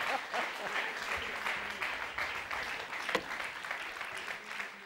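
A TV studio audience applauds, dense, even clapping that carries on for several seconds with no pause.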